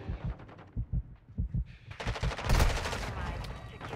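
Gunfire from the video game Call of Duty Modern Warfare 2 in ranked play: rhythmic bursts of automatic shots that build into a louder, denser volley of fire.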